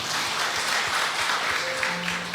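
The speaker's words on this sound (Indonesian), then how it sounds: "Berikan tepuk tangan untuk Tuhan kita." Church congregation clapping in a sustained, steady wash of applause during a worship service, fairly close and even in loudness, with no voices standing out.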